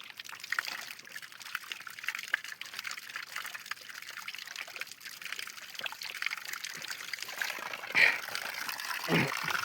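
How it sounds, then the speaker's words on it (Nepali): Water runs faintly from a tap in a steady, soft trickle that continues throughout, with a few slightly louder splashes near the end. "अहिले पानी खान आएको छु ट्याक्क धारामा"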